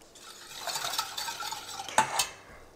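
A spoon stirs sugar and water in a cooking pot for peach preserve syrup, soft scraping swirls building up, then a couple of sharper metallic knocks against the pot near the end.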